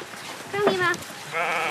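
Goats on a traditional family farm bleat twice in quick succession, clear and close, with farmyard background and no talk over them.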